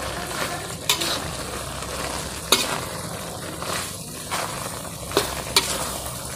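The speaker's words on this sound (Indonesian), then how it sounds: "Kita aduk kembali." Clams cooking with lemon basil are stirred in a frying pan: scraping utensil strokes, with a few sharper knocks against the pan, over a steady sizzle.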